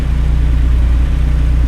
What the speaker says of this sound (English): the truck sounds are loud